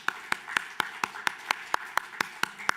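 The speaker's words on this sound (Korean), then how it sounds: "우리 주님께 우리를 구원하여 주심에 감사의 박수 올려드립니다." Congregation in a church worship service claps in a steady rhythm, about twelve sharp, even claps in under three seconds, moderately loud and clear with no talking over them.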